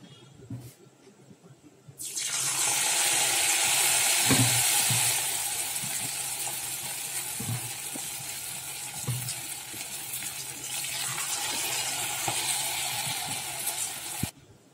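Eggs fry in hot oil in a pan for chili egg: a sudden loud hiss bursts in and settles into a sustained sizzle, with occasional soft knocks, before cutting off at the end.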